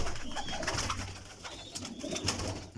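Taddy Rampori Lakhy pigeons coo softly and continuously at close range, a low rolling murmur with faint surrounding chatter and no talking.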